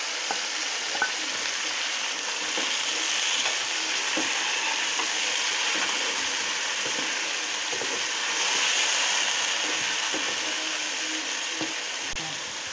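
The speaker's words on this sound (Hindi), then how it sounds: "अब इसमें हम डाल देंगे गोश्त, अच्छी तरह करेंगे फ्राई," Beef meat fries with browned onions in a pot for yakhni pulao, making a loud, continuous sizzle with the scrape and clatter of stirring recurring over it, close up and without voices.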